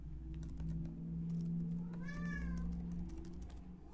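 A cat meows once, a short rising-and-falling cry, heard close over steady low hum and light keyboard tapping at a computer desk.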